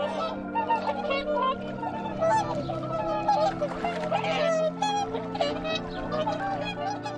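Whooper swans call in a flock, a steady stream of honking, bugling notes that overlap close by, with a voice narrating over them.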